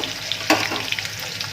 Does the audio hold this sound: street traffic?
no